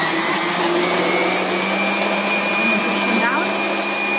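A loud, steady motor whine with a gritty grinding texture runs throughout as a Silvecrest food processor grates parmesan on low speed with its grating disc, with no pauses.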